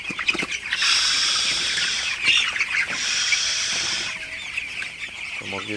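Broiler chickens cluck and squawk at night inside a poultry shed, a close cluster of overlapping calls that rises and falls in short bursts.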